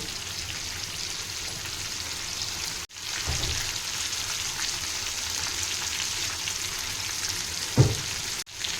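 Butter chicken tikka pieces frying over a high flame, a loud, steady hiss and crackle of sizzling oil, broken by two brief pauses and a couple of low knocks.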